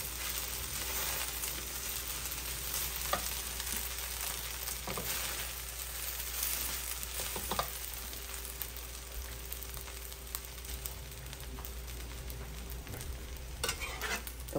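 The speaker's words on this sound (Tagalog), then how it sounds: "nalagay na lahat yung kanin. Haluin natin." Rice and adobo being stirred in a frying pan, a steady scraping and shuffling under a continuous low sizzle, with a few sharper utensil knocks against the pan along the way.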